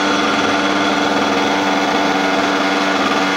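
A motorcycle engine running steadily, loud and close, with a continuous buzzing, droning tone and a grinding quality throughout.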